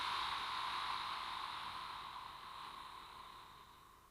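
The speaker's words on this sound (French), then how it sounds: "on relâche doucement par la bouche." Slow exhale through the mouth during a relaxation breathing exercise, one long airy hiss close to the ear that gradually tapers off over four seconds.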